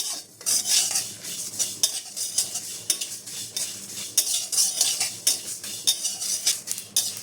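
Whole spices with black cumin seeds and chillies fry gently in a pan, stirred with a metal spoon that clinks and scrapes in quick, uneven bursts up close, a faint sizzle underneath.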